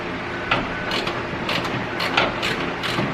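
A ratchet turning a 10mm socket on a ground bolt of a Toyota Tacoma gives a series of close, quick clicking bursts in uneven spurts, with no talk.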